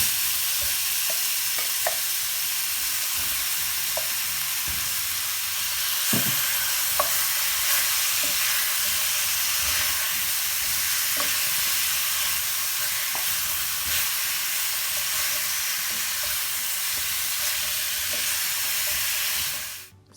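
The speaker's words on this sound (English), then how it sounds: "now we're gonna go ahead and add the oxtail to this hot oil" Oxtail sears in hot oil, a dense, steady sizzle and crackle that fills the whole stretch, close and loud, with occasional stirring clicks and no talking.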